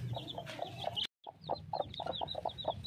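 Hen clucking in a backyard coop with chicks about, a steady series of short, close clucks repeating in a quick rhythm, with one brief pause partway through.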